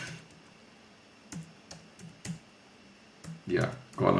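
Clicky keystrokes on a computer keyboard come in sparse, uneven taps, growing louder and denser toward the end, with brief talk mixed in.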